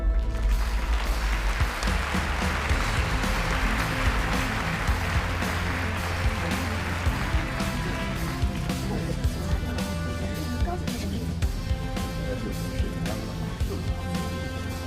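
Audience applause at a tech award ceremony, broad continuous clapping from a large crowd mixed with background music and a dense hum of sound, held at a steady level throughout.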